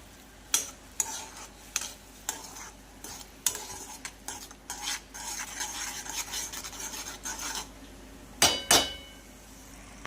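A spoon stirs spices into a thick tamarind and jaggery chutney, giving a soft wet scraping with a run of quick spoon taps against the bowl and two sharper clinks near the end.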